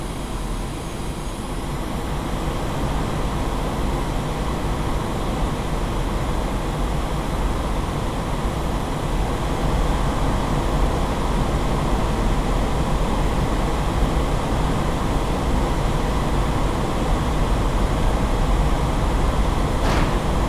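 Twin jet engines at maximum thrust during a takeoff roll down the runway in the DCS flight simulator game. A loud, steady roar holds for the whole stretch and swells slightly toward the end, with no voices.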